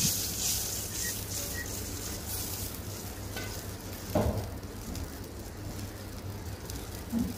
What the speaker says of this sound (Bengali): এরপর মশলাটাকে ভালো করে ভাজবো।